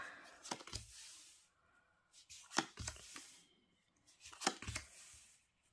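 A deck of cards is cut and dealt in three quick groups of soft, close riffling and slapping sounds, separated by quiet pauses.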